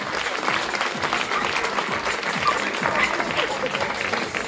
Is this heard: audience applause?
yes